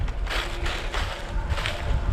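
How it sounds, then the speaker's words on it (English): Steady rushing wind noise buffets the microphone outdoors on a coyote trapline, rising and falling in gusts with a low rumble throughout, no voices. "Sorry about the wind."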